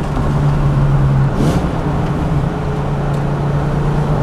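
A Ford Fox body Mustang engine runs while driving, a loud steady low drone with a constant hum and road noise throughout, no voices.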